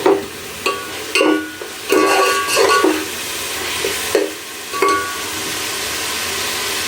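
Spices for a mixed vegetable pulao roast in a pan, with a steady sizzle under repeated scraping stirs from a spoon, loud and close, several distinct strokes spread across the clip.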